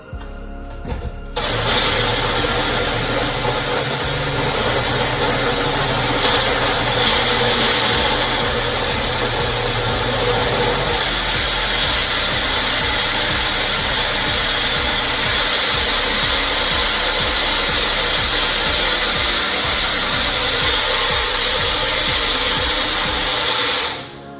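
A Magic Bullet blender mixes a protein smoothie with protein powder, dry peanut butter and almond milk, producing a loud, continuous close-up motor whir that runs steadily for over twenty seconds before cutting off at the end.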